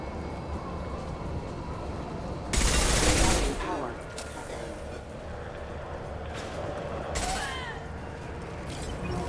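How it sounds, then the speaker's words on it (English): High impact gunfire in Mass Effect 2: a loud, dense burst of rapid shots, then a shorter second burst a few seconds later, over a constant low background hum. "Firing a high impact shot."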